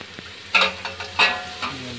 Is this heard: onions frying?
yes